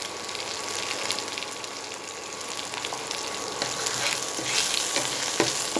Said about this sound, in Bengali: যতক্ষণ না টমেটোটা মেল্ট হচ্ছে আমি ফ্রাই করবো